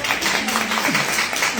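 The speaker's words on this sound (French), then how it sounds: "je pense qu'on peut l'applaudir" An audience at a French talk applauding, a dense burst of clapping from many hands close by, with a voice speaking over it.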